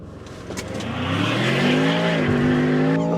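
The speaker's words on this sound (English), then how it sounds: "it's time to launch the Range Rover Sport SV, the car you're buying" A Range Rover Sport SV launching hard under launch control, its engine note climbing steadily from a low rumble to a loud, sustained roar close by, with a slight tire squeal early on.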